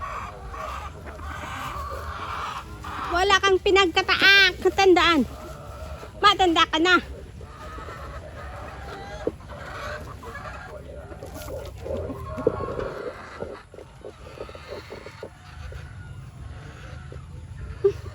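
On a small farm, chickens cluck and squawk loudly in two bursts early on, then settle into scattered low clucks while someone talks over them and a light rain patter begins.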